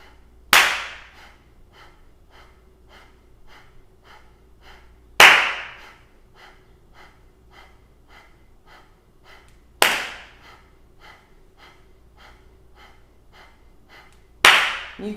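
Rhythmic kundalini yoga breathing: quick, regular exhales puff in a steady pulse, with a single sharp handclap landing on each inhale about every five seconds, four claps in all, close and clear with no talking.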